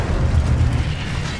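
A loud, brief fiery burst from the Incendio spell in Hogwarts Legacy, a deep whooshing boom that swells and fades within about a second and a half.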